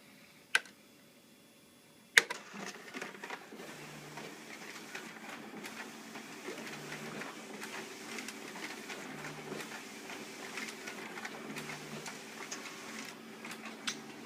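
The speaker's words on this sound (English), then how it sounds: "now we're going to take these, run them through the document feeder just to make sure that functions properly" A Xerox WorkCentre 5225 copier's document feeder clicks twice, then settles into a steady, quiet whir with light rhythmic ticking as pages pass through.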